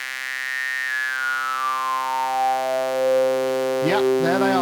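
Arturia MiniFreak synthesizer harmonics swept through its high-pass filter: a steady buzzy tone whose bright upper partials glide slowly downward, then a few quick chirping bursts near the end, loud and clean with no talking.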